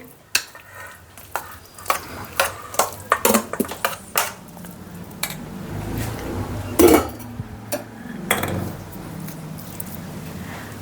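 Spiced, tempered khichdi is scooped from a pot into a bowl, with a quick run of metal spoon clinks and scrapes against the pot, then softer wet stirring and a few more scrapes, all close and clear.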